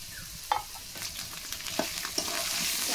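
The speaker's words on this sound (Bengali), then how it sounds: "শুধু লবণ দিয়ে এখন আমি একটু কষিয়ে নেব" Potatoes, ginger, garlic and onion sautéing with salt in a pan, a steady close sizzle broken by repeated spatula scrapes and taps.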